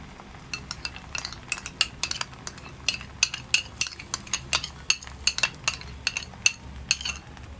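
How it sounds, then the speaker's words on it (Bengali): A utensil clinks and scrapes repeatedly against a metal pan, steady rhythmic stirring of tomato paste with a faint sizzle underneath. "পেস্টটা একটু নেড়ে চেড়ে নিই।"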